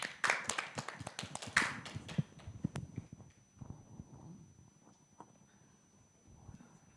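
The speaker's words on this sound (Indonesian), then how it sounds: "Kasih tepuk tangan dulu." A church congregation claps together during a sermon, a burst of dense applause loud at first then thinning into scattered claps and fading under low background noise.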